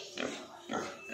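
Pigs at a farm sale, two short grunting oinks spaced apart, fairly faint against a quiet background.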